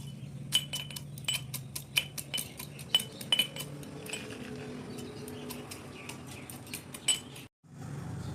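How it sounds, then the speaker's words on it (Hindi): Crisp fried badi, sun-dried lentil dumplings, are crushed in a dish for Odisha-style badi chura, giving scattered close clinks and sharp crackles with quiet pauses between. "ये देखो बड़ी को पूरा दरछेंचा कर देइछि"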